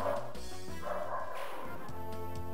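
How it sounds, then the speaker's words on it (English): A dog barks several times in quick bursts, somewhat muffled and off in the distance, with a faint background hum throughout. "Can you guys hear that barking?"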